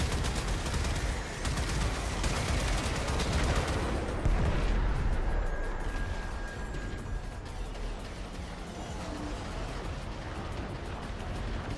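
Steady barrage of video game gunfire with an overheating gun, dense continuous bursts loud at first and easing slightly later, with no talk over it.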